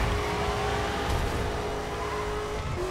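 Race cars in a racing video game hold a continuous engine whine and rumble with tonal revving, steady and loud throughout, no talk.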